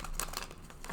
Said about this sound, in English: Nothing like shuffling.